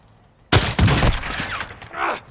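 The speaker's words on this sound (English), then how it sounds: "Taking effective fire!" Burst of rapid gunfire in the video game DMZ, several loud, close shots cracking in quick succession after a moment of quiet, followed by fading echoes.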